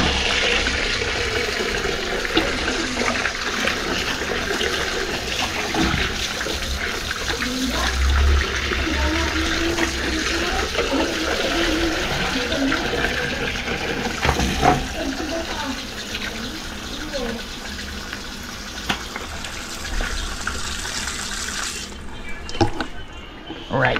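Water runs steadily from a tap for a long stretch while fish are washed, with splashing and dripping throughout and faint voices in the background.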